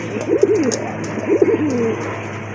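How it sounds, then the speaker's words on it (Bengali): A pair of large native Bombay pigeons coo in two close, rolling phrases, loud and clear with no talking and a steady low hum behind. "আরেক জোড়া কবুতর দেখতে পাচ্ছেন। এটা হচ্ছে বোম্বাই কবুতর"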